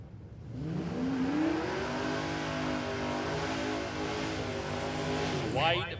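A Mustang drag car at Warwick Dragway in Australia revs up, its engine climbing in pitch and then holding a loud, sustained roar, with a commentator's voice breaking in near the end.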